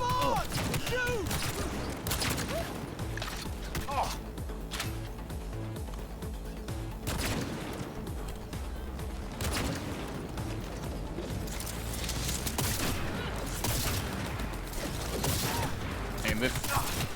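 Gunfire in the video game Cyberpunk 2077, with rapid repeated shots and bursts over a loud game soundtrack during combat, a voice talking at times over the action.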